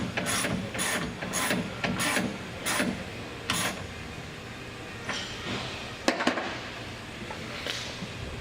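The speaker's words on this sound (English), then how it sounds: "you can tighten up this last bracket" A hand ratchet tightens the bracket on a chrome truck box rail, giving a quick series of crisp clicking strokes followed by a pause and a few more scattered clicks, close and clear in a quiet space.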